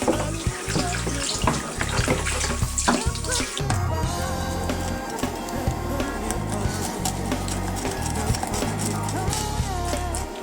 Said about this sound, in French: Je rince ma planche.